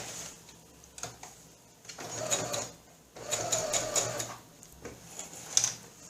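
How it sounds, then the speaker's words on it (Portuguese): Sewing machine stitching around a fabric piece for a jewelry or makeup holder, running in short whirring bursts with pauses between, close and moderately quiet. "Então, vamos começar lá a costura."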